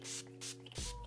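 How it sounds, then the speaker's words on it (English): Several quick hissing squirts from a spray bottle onto a car mirror, close by, with short pauses between them over a faint low hum. "I'm going to spray"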